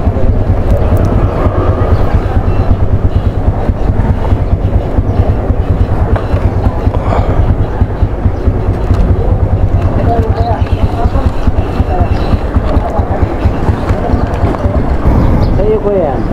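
A motorcycle engine runs during an emission test, giving a loud, continuous low drone with steady broadband noise and no clear breaks throughout.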